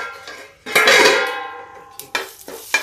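Cumin seeds sizzle in hot oil in a pan over a low gas flame during preparation of urad masoor dal, a broad hiss swelling suddenly then settling, with a few sharp utensil clinks near the end, close and with no talk.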